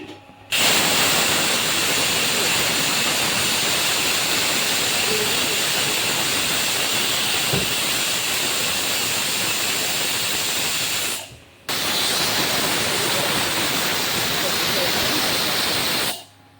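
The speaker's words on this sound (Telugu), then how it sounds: "విజిల్స్ అయితే అయిపోయాయి గ్యాస్ కట్టేద్దాము" A kitchen pressure cooker whistle letting off steam, a loud sustained hissing jet that runs unbroken for about eleven seconds, cuts briefly, then bursts out again at full force.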